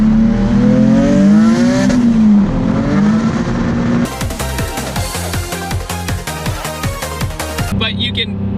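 Turbocharged single-turbo Nissan 350Z HR V6, about 540 hp, revving and climbing hard through the gears, then a sharp shift into rapid rattling, popping pulses from the boosted engine, loud and close.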